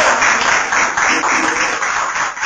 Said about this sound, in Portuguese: A igreja senta batendo palmas para Jesus.